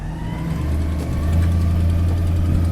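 A 1964 Ford Galaxie 500XL two-door in Dynasty Green idles with a steady low rumble, the engine note rising slightly and holding firm, close and alone without talk.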